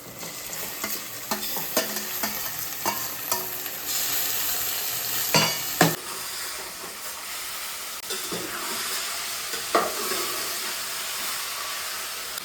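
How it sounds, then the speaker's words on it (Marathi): Chicken fries in a pan with masala, a close, steady hiss and sizzle punctuated by sharp spatula scrapes and stirs, with no voices. "चिकन टाकायचं त्यात."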